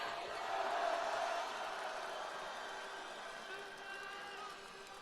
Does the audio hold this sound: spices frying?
no